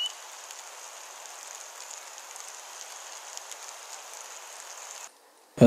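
Rain falls steadily in a New England forest on the Mt Tom Range, a dense soft patter and hiss that cuts off abruptly near the end.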